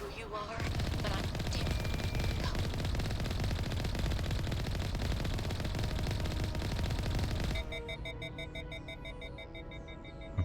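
Rapid machine-gun fire from many turrets in a video game rattles loud and continuous for about seven seconds, then cuts off, leaving beeping electronic tones and game sounds behind.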